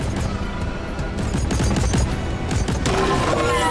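Automated turrets firing continuously in the co-op mining shooter Deep Rock Galactic, a steady dense rattle of rapid shots with occasional heavier thumps, loud and close throughout.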